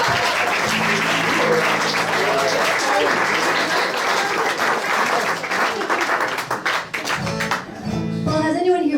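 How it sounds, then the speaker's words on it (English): A live audience bursts into sustained applause that fills most of the stretch, steady dense clapping with some voices mixed in, then thins out near the end as a voice begins speaking. "Give yourselves a round of applause."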